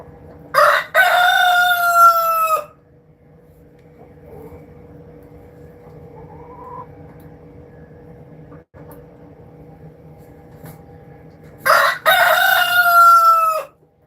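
A rooster on a small organic fruit farm crows loudly and close by, two full cock-a-doodle-doo calls. The calls are separated by about ten seconds of quiet yard ambience with faint clucks and distant noises.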